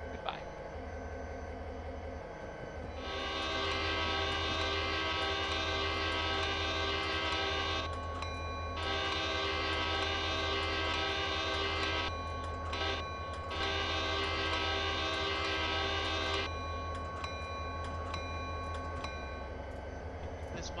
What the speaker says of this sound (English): Wake up, everybody! The train is here!